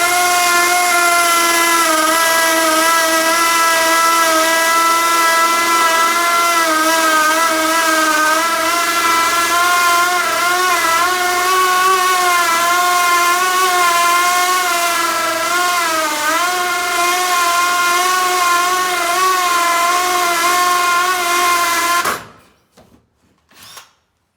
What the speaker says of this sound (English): So got my hammer drill, and